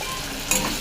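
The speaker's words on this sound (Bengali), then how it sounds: "ভালো করে পেঁয়াজটা ভাজতে দেবো।" Onion frying in a pan for a Bengali spicy fish curry, a steady low sizzle with faint stirring that swells briefly near the end of a short moment.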